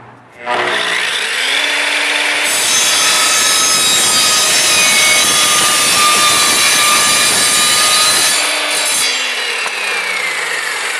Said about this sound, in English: So now we're cutting a piece of angle iron.